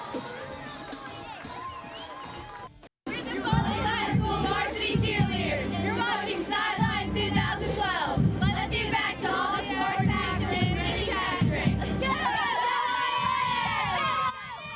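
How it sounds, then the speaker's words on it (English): Cheerleaders cheer at Ivan Jones Stadium in Foley, Alabama, a loud group of young voices shouting and chanting in rhythm over crowd noise, starting after a brief gap and running steadily to the end. "thanks for that cheer from Ivan Jones Stadium in Foley, Alabama"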